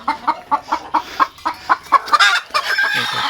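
Chickens cluck in a 16x50 poultry shed, a rapid run of short, loud, close calls in a regular rhythm that swells into denser, overlapping squawks toward the end, with no talk.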